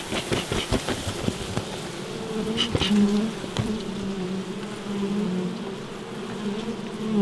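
Honey bees swarm and buzz in an opened hive during winter feeding, a dense, close drone that stays steady throughout, with handling knocks and taps early on.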